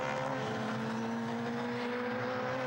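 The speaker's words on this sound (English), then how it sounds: "Huge train of cars behind Mark Boot lining up." Radical sports racing cars circling the Rockingham circuit, a continuous droning engine note held at a steady pitch, moderately distant, with no talk.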